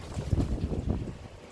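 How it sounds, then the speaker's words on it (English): Wind gusts and buffets against a greenhouse, a low, rough roar that swells and fades across a second and a half, with no speech. "can you hear that wind? It is so windy today."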